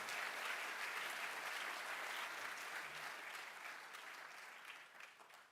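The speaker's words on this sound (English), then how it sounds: "Let's give them a big round of applause." A large audience gives a sustained round of applause at a college of engineering welcome event. It is dense and even throughout and fades slightly toward the end, with no speech over it.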